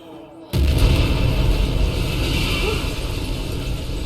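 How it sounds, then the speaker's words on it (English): A loud explosion in the video game Mirror's Edge Catalyst, set in the City of Glass. It starts abruptly with a heavy boom, then a sustained rumbling roar continues to the end. "Big explosion over here!"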